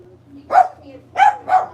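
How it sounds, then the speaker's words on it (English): A dog gives three sharp, loud, close barks, one and then a quick pair, against a quiet low hum. "Stupid motherfucking dog."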